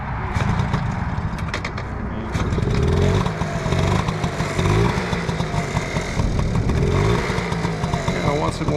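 A 50cc scooter engine cold-starts on choke after about two seconds, then buzzes and revs unevenly, loud and close, while a person talks over it.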